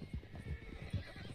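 Horse hooves galloping in Red Dead Redemption 2, a few quick, muffled clip-clop beats in an uneven rhythm, faint and close, with a soft whinny-like snort.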